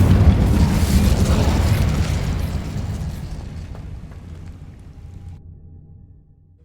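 An Incendio fire spell cast in a Hogwarts video game erupts as a loud, deep, rushing burst of flame that swells at once and then slowly rumbles away over several seconds.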